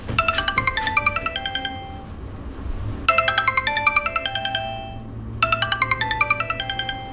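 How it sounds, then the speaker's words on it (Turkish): A mobile phone ringtone plays in three bursts of bright, rapid chiming melody separated by short gaps, loud and close in a home, with a low hum underneath and no talking. "Anne dur telefonum çalıyor."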